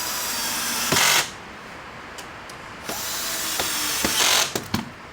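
A power driver drives a screw into a 40-inch wooden table during assembly, in several short whirring bursts separated by pauses, close and moderately loud.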